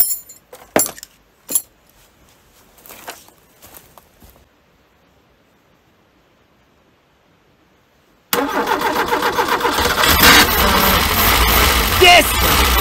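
Peugeot 205 XS left abandoned for 17 years: a few clicks and knocks, then quiet before the engine suddenly catches and runs loud and rough nearby, idling unevenly to the end.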